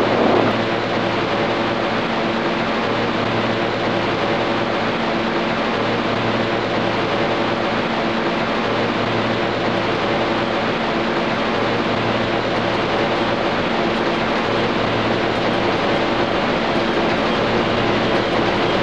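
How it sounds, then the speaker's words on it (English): An R160 subway train on the Manhattan-bound Q local in the Trainz 12 rail simulator runs steadily, a loud continuous rumble and hum of motors and wheels holding without a break for the whole stretch. "This is a Manhattan-bound Q local train."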